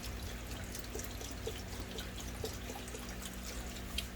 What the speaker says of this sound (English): I'm going to pour as much as I need to submerge the blade.